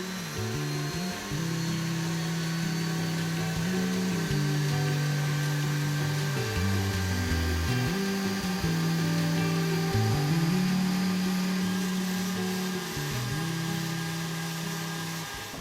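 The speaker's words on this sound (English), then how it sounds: "I am going to use my inverted cone burr from Duragrit. I'm gonna turn it on its side, and I'm gonna just go through here and smooth everything out." A Duragrit inverted cone burr on a rotary power carver smooths a wood carving, giving a steady close whine that shifts in pitch as the bit meets the wood, with no talk.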